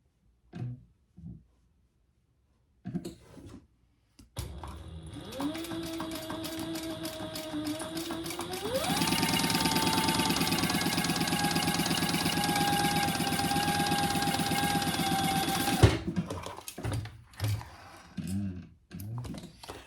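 A sewing machine runs steadily for about eleven seconds, stitching a seam on a pencil pouch; the motor whine rises partway through as the machine speeds up, with quiet handling clicks before and after.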